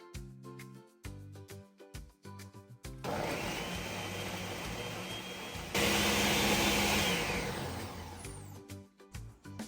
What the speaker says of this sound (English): still using the same blender to blend the pepper mix